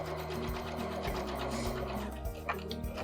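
Sewing machine back stitching a shopping bag runs in a steady, continuous close whir with a few small changes in pace, loud and unbroken throughout.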